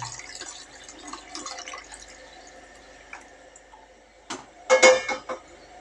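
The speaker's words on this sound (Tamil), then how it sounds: "தேவையான தண்ணி ஊற்றிக்கலாங்க." Water trickles and splashes into a cooking pot, a soft dripping stream that swells into a louder, fuller pour near the end.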